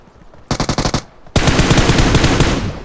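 Automatic gunfire in the mobile battle-royale game PUBG Mobile: a short burst of about eight rapid shots, a brief pause, then a longer sustained stream of loud, close fire.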